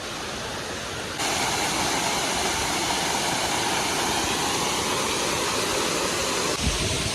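The village waterfall at Khadkona pours in a dense, unbroken roar that swells louder after a moment and holds steady and close.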